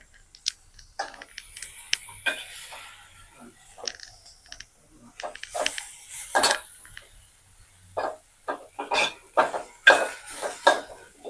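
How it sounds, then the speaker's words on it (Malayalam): Carrot thoran is stirred in a pan in a Kerala kitchen: sparse metallic clinks and scrapes of a spoon against the pan come in irregular bursts over near silence, growing busier and louder toward the end. "ഇനി നന്നായിട്ട് ഇത് ഇളക്കി കൊടുക്കാവേ"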